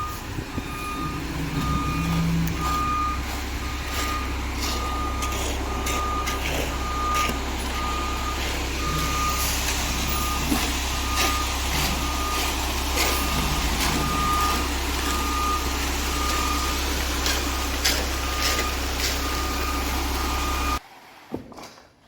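A concrete truck backs up with its reversing alarm beeping in a steady, regular rhythm over a low idling diesel engine rumble, continuous for about twenty seconds before cutting off.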